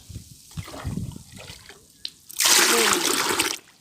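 Water is poured to dilute a rice-based liquid fertilizer, heard as a loud, close splashing gush lasting about a second after some quieter handling sounds.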